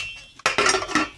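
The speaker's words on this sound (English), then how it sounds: "Put some ice in here." Ice cubes dropped into a glass of high-proof Southern Comfort, making a few sharp, close clinks and rattles against the glass, heard alone.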